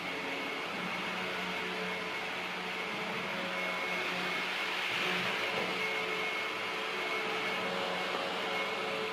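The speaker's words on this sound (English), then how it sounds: "I'm sorry if you can hear the vacuuming" A vacuum cleaner runs steadily in the background as a continuous, even hiss and hum, fairly faint and distant, with no pauses.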